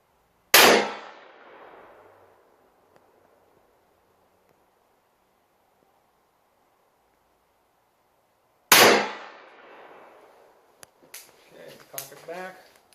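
Two loud, sharp shots from a 9.4 Nagant rolling block pistol, spaced several seconds apart, each with a short ringing decay, followed by a few metallic clicks and a voice speaking.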